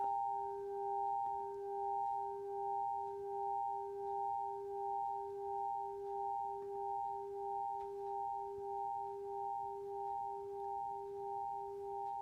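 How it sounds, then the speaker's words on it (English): A crystal chime rings on and on, holding a few pure, steady tones that swell and fade in a slow, gentle pulse. It is soft and sounds by itself with no voices, sustaining for a long time without dying away. "This is the sound of the crystal chime."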